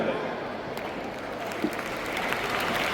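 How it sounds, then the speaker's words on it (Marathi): An audience claps in a hall during a panel discussion, a brief dense patter of applause with a voice heard over it. "वरिष्ठांनी टाळ्या वाजवाव्या"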